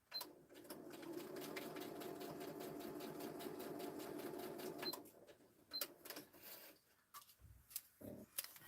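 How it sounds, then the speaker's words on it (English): Sewing machine stitching an embellishment closed, a steady fast mechanical whirr for about five seconds, then stopping, followed by scattered clicks and handling noises. "Let me stitch that closed"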